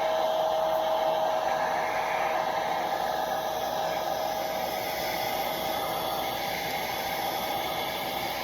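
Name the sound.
hair dryer blowing on battery hen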